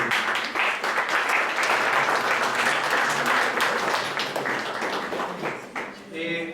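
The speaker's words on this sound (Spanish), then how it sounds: "Les pido un aplauso, por favor." Sustained applause from a seminar audience on Spanish-language courses in interculturality and gender perspective, dense clapping throughout that thins slightly toward the end, with voices mixed in beneath.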